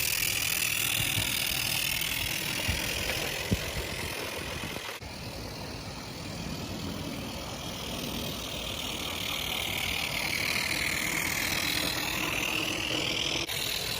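A Mamod Brunel live steam locomotive, re-gauged to 32mm, runs on an outdoor garden layout climbing a 2% grade, giving a steady close hiss and mechanical rattle that hold for the whole stretch with a brief click midway.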